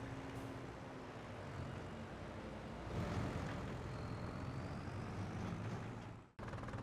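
A tractor in the Farming Simulator video game drives along with a steady, droning engine rumble that swells slightly midway and cuts off abruptly near the end.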